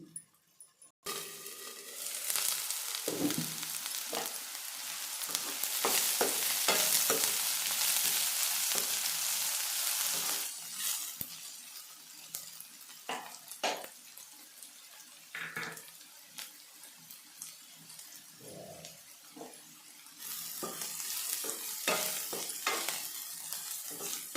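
Sprouted green gram and egg frying under a lid in a covered pan, a steady close sizzle with occasional clinks and stirring knocks, swelling mid-clip and easing toward the end, no talking.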